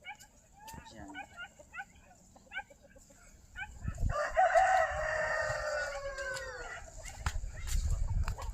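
A rooster crows loudly on a poultry farm among mixed-breed chickens, a long drawn-out call rising over scattered clucks and chatter from other fowl, with people talking nearby.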